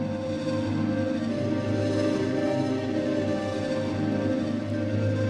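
A sustained, dense synth-like chord drones steadily from a sampler with samples spread across the whole keyboard, thick and layered, with no voices over it.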